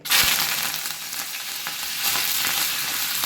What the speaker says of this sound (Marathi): अशाच पद्धतीने आता आपण कोथिंबीर आणि कढीपत्ता देखील तळून घेणार आहोत.